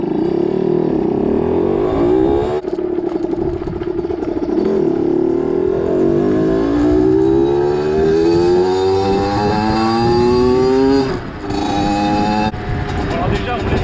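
A stock 50cc MRT motorcycle, freshly serviced with new crankshaft bearings, is ridden with a buzzing two-stroke engine that rises through revs in repeated climbing sweeps, cuts briefly between gear changes, and stays loud and close, with a voice heard over it.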